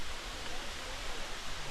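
Water from Latille Waterfall & Garden pours down in a steady, close, broadband rush that holds level without a break, with no voices heard.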